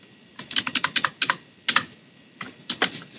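Quick bursts of keystrokes on a computer keyboard, close and crisp, clicking in short irregular runs with brief pauses between them.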